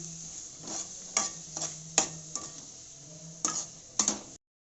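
Sliced green chilies roast in a pan while a utensil stirs them, giving a low sizzle punctuated by several sharp scraping clinks at irregular intervals, close and without speech.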